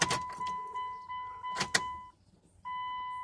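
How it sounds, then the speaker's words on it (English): An electric fuel pump primes in a 1999 RT Kota truck as the key is cycled, giving a steady whining hum with a tonal buzz that cuts out briefly and then resumes, heard up close. "Oh, I hear the fuel pump."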